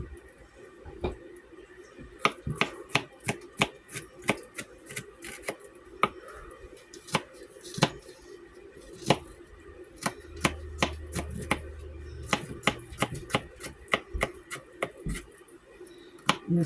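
Onion chopped finely with a knife on a board, a run of crisp rapid knife taps in irregular bursts that speed into quick clusters, close and fairly quiet with no talking.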